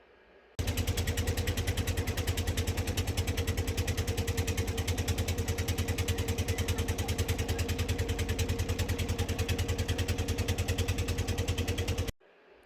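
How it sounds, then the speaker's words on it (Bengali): A trawler boat engine on a trip toward the Sundarbans runs at a steady, rapid chugging throb, loud and close, starting abruptly and continuing evenly before cutting off near the end. "আমরা বোটে করে যাচ্ছি, আর বোটের বা ট্রলারের আওয়াজ থাকবে না সেটা তো হতে পারে না।"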